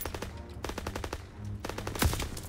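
Rapid bursts of gunfire in Call of Duty: WWII campaign combat on Veteran mode, several quick volleys with a short pause between them and a heavier burst near the end.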